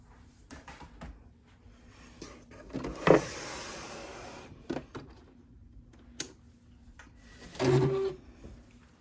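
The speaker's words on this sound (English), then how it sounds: "And I'm just going to sew directly on that line all the way around." A sewing machine stitches around a zipper pocket box in short bursts of motor whirring, separated by handling clicks and pauses, fairly quiet and close.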